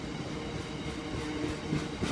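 A Class 60 diesel locomotive passes with a freight train at a station, a steady rumbling roll of wheels on rails with faint rhythmic clacking, at moderate distance.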